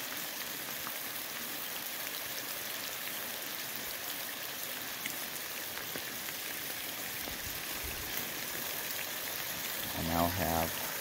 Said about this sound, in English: it's now raining so hard that my portage trail turned into a creek